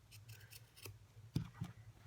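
Scissors snip through the fabric of a triangle coin pouch in a few quiet, close cuts, with two sharper clipping snaps near the end.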